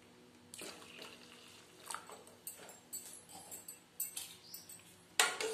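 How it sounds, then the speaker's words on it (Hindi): Half a glass of water is poured into a pot of cooked rice and milk powder for kheer, a quiet splashing trickle joined by soft stirring and scraping clinks, close and low, with no talking. "और डालेंगे 1/2 ग्लास पानी।"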